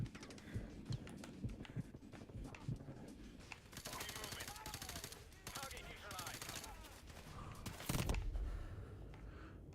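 Game gunfire erupts in scattered bursts of rapid shots, some fairly loud and close and others more distant, mixed with in-game noise and a voice talking over the action.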